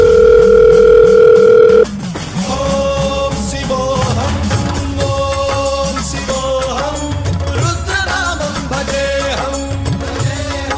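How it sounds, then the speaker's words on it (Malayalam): A loud steady telephone dial tone for an outgoing call, continuous for about two seconds before cutting off, followed by music with a beat and tonal melody running to the end. "എന്നാലും ഒന്ന് വിളിച്ചു നോക്കാം."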